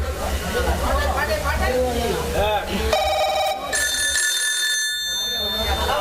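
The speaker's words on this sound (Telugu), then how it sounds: "ఒక్క నిమిషం, ఫోన్ వచ్చింది." A telephone rings with a bright, repeated electronic tone that cuts in midway, following people talking in a room, while a low hum keeps on underneath throughout.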